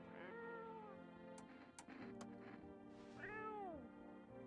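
A cat in the game No I'm Not a Human meows twice, drawn-out and close, with a few sharp clicks between the calls over a quiet low background hum.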